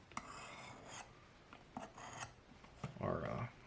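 A homemade BAK knife blade is sharpened with a rasping, scraping sound, repeated in a few short strokes that are fairly faint and close by.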